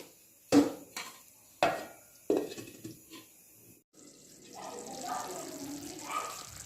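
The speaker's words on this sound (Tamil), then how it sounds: "இப்போ நம்ம வந்து மூடி போட்டு வச்சிடலாம்." A lid is set on a cooking pot of Chettinad chicken leg piece gravy, giving several sharp metallic clanks and knocks, followed by softer shuffling and a voice speaking.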